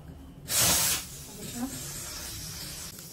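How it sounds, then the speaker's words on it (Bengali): A pressure cooker whistle lets off steam in one short, loud hiss lasting about half a second, then fades back to a quiet kitchen background. "এখানেও সিটি পড়ে গেছে, সিটির আওয়াজ হচ্ছে"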